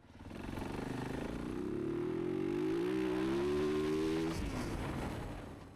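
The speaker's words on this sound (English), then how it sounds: "So I'm going to put it in a high gear, start at a low RPM, and then crack the throttle open." A used dirt bike engine held in high gear climbs from low RPM as the throttle opens, its droning pitch rising steadily and loudly for several seconds before the revs abruptly fall away.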